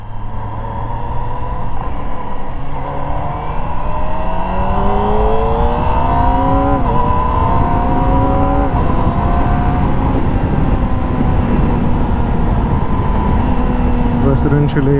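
A 2024 Kawasaki ZX-25R SE with a small-capacity inline-four engine revs loudly and close up, its pitch climbing and holding in long sustained sweeps as the engine spins up, with a steady rumble beneath.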